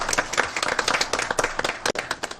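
A school board meeting audience breaks into applause, a dense, steady patter of many hands clapping at close range that carries through the whole stretch with no talking over it.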